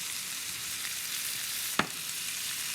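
Vegetables frying in oil after sugar and molasses are added, a dense even sizzle with one sharp utensil knock partway through.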